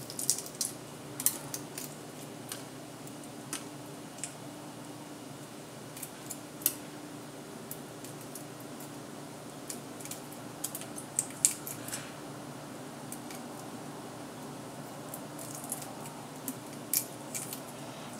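A boiled egg's shell cracked and peeled for ajitsuke tamago gives sharp, scattered little clicks and crackles, close and fairly quiet, with no talking.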